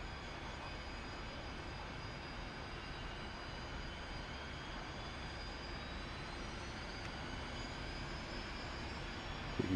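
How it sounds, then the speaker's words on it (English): Jet engines spool up in the DCS World flight simulator, a steady broadband roar with a rising whine building slowly over ten seconds, heard alone without talk. "You see the engines spooling till they're ready."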